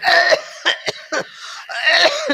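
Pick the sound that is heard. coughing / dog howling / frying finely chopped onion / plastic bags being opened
coughing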